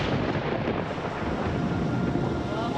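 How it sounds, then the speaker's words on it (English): Thunder rolling over Bondi Beach during a southerly storm, a loud deep continuous rumble that fills the whole stretch without a break, heavy and close, with no voices. "And then lightning, thunder."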